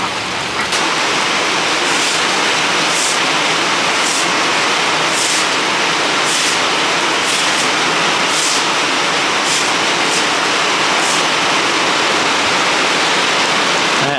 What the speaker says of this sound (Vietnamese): Thì đang mưa lớn lắm rồi